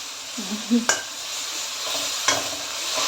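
Beef stir-frying in a hot pan gives off a steady close sizzle, broken by two sharp scrapes of the spatula against the pan.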